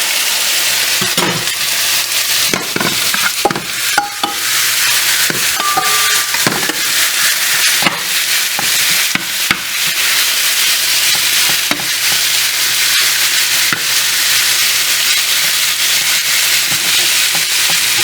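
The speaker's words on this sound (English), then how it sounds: "For things to move faster, I'm using two different frying pans." Beef sizzles and crackles in two hot frying pans, a constant loud hiss broken by irregular pops and spatters, with no one speaking.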